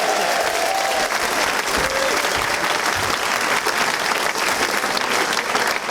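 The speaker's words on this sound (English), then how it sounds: "Round of applause for Angela." A studio audience claps for a performer at a comedy show, loud sustained applause from a crowd that holds steady throughout.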